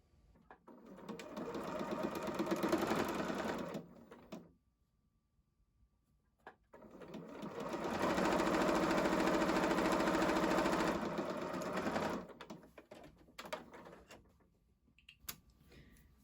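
A sewing machine stitching a quilt, running in two bursts of rapid steady whirring, one of about four seconds and a longer one of about five, separated by quiet, close and fairly soft with no talk.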